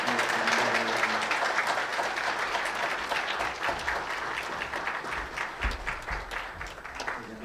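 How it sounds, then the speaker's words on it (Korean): A church congregation applauds during a Sunday worship service, a broad sustained clapping from many people that holds steady and tapers slightly toward the end, with no talk over it. "큰 박수 해주시기 바랍니다"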